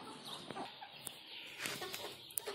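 Hungry chickens cluck and squawk in a coop at feeding time, several birds close by with sharp intermittent calls over a steady murmur of clucking.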